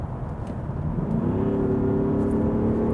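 Audi SQ7 TDI 435 hp V8 diesel SUV accelerating hard under throttle, a steady loud engine drone whose pitch climbs smoothly as it pulls, heard from inside without speech.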